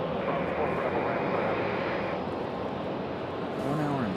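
A SkyWest regional airliner arriving from Cincinnati at Raleigh-Durham airport gives a steady, broadband engine roar that holds at a constant level throughout, with a voice briefly audible near the end.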